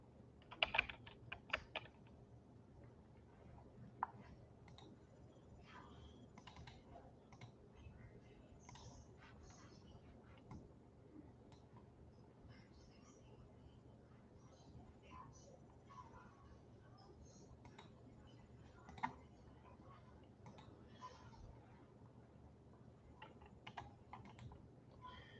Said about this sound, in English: If you hear me typing, that's because I'm working on